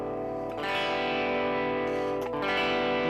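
One amp channel of a UAFX Lion amp pedal rings out in a sustained, distorted guitar chord with thick harmonics, loud and continuous, re-struck partway through.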